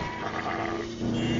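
A sheep bleats in a short, wavering cry, close by over rough outdoor noise, with a second bleat rising toward the end.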